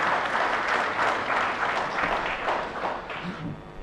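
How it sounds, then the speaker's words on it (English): Sustained, dense applause from an audience at a Rotary District 3230 gathering, a steady wash of many hands clapping at once that fills the whole stretch with only a slight easing toward the end. "Please applaud him with a great round of applause."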